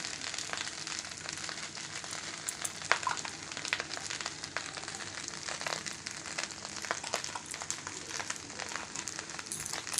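Fried rice made from home rice sizzling and being stirred with ghee in a pan, a steady close crackling fry with scraping stirs and small clicks throughout, no talk.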